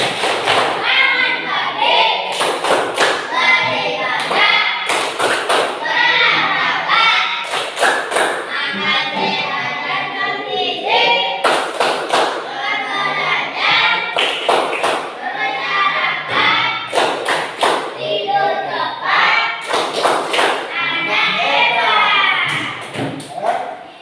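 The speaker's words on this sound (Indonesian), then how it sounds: "marilah kita tepuk anak hebat" A group of participants in a teaching session performs the "tepuk anak hebat" rhythmic clapping routine, sharp clap bursts in repeating patterned groups alternating with chanted voices, loud and close throughout.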